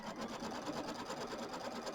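A sewing machine stitches a quilt placement line in a steady, fast, even whir of needle strokes. It sounds quiet and close, with no talking over it.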